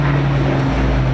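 A Spitfire propeller aircraft flying at an air show, heard as a loud, steady engine drone with a strong low tonal hum, continuous across the brief moment.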